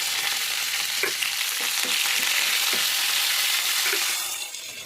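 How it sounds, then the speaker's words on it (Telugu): Dried red chillies and curry leaves sizzle in hot oil with a steady crackling hiss, punctuated by several soft stirring taps, close by and fading at the end. "రెండు ఎండుమిరపకాయలు రెండు రెబ్బలు కరివేపాకు వేసి ఫ్రై చేశాను"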